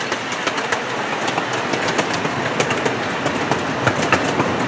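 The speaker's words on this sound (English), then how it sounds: "Train on the left" A small amusement park train at Knoebels Amusement Resort in Elysburg, Pennsylvania, passing close by with a steady rolling rumble and rapid rhythmic clickety-clack of wheels, loud and alone.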